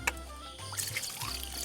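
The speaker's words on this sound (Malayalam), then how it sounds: "ഒരു ഗ്ലാസ് ഒഴിച്ചു." A glass of water is poured into a cooking pot of mixed-grain curry, a soft, brief trickle and splash that is fairly quiet against faint background noise.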